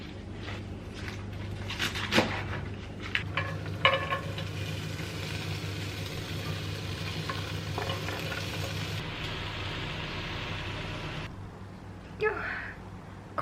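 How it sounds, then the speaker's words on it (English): Eggs frying in warmed oil in a pan, giving a steady close sizzle throughout with occasional clinks and small handling knocks, and a brief voice near the end. "put a bit of oil in a pan, warm this up, and then put a couple of eggs in there"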